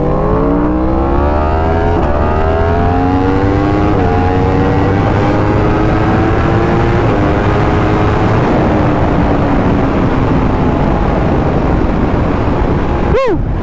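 A Yamaha R1 motorcycle with a flashed ECU rides hard on the street, its engine loud and close, climbing and falling in pitch through repeated gear changes over a steady roar of wind, then ending in a sudden sharp sweep.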